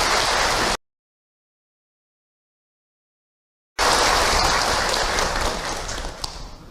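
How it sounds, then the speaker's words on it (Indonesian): At a Ramadan gathering, an audience applauds in two bursts of dense, steady clapping that fill the room, split by a few seconds of complete silence, the second burst tapering off toward the end. "tepuk tangan buat Ibu Ipa"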